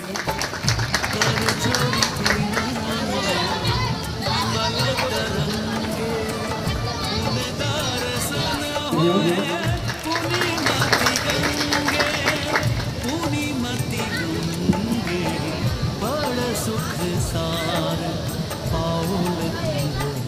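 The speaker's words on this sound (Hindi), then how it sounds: "सब गोटा के ताली बजा कर स्वागत करियो।" An audience at a Durga Puja committee honours ceremony claps to welcome the honourees. The applause is loud and sustained and runs alongside crowd noise and a speaking voice throughout.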